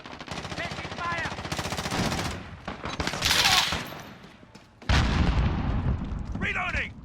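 Automatic gunfire in the Modern Warfare beta on PS4 crackles in loud, dense bursts with short pauses, and distant explosions mix in. Voices call out over the shooting.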